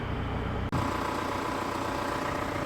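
A warmed-up Audi A4 2.0 TDI diesel idles steadily at close range, an even low rumble with a faint mechanical clatter and no voices.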